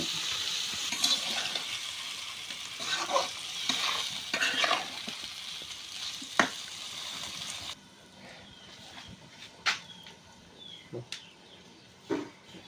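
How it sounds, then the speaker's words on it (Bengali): Rooster and potato curry sizzles loudly in a pan while a utensil scrapes and stirs repeatedly. The frying quiets abruptly halfway, leaving occasional clanks of stirring. "অল্প অল্প পানি দিয়ে কষিয়ে"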